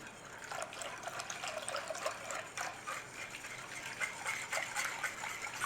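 Cream poured into a pan with milk for an old-fashioned English dessert gives a steady liquid trickle and splash close by, continuous throughout with no talk.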